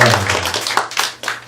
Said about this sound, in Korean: 우리 귀한 식사를 제공해준 우리 송영철 권사님 가정에 그냥 박수 해드리겠습니다.